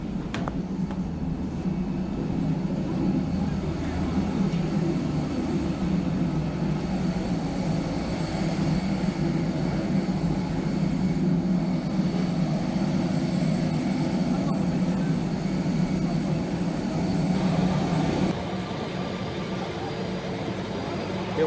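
An easyJet airplane at boarding for a flight to London, its engine drone a continuous broadband roar with low rumble, steady and fairly loud throughout, a voice audible underneath.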